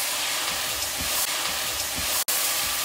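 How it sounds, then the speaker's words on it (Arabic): Chopped onions, with tomatoes added, fry steadily in hot oil for a lentil and beetroot dish, giving a continuous close hiss and sizzle with faint crackle that cuts out for a moment near the end. "عندي الزيت، ونزلت فيه البصل، حبتين بصل قطعتهم بس ينحمص البصل"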